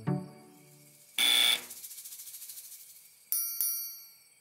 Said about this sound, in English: You can try that buzzer thing if you want, Garfield, but it won't do any good.